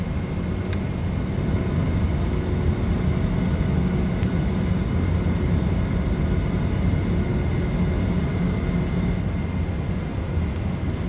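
The Pratt & Whitney jet engines of a TFDI MD-11F freighter roar through a takeoff roll in Microsoft Flight Simulator 2024, a loud, steady, unbroken engine rumble with faint clicks and no talking.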